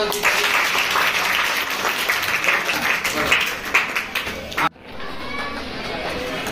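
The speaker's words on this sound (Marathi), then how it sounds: "जोरदार एकदा टाळ्या" Students in a classroom clap loudly and steadily for about four and a half seconds, a dense burst of applause that cuts off abruptly before a quieter stretch with a voice speaking.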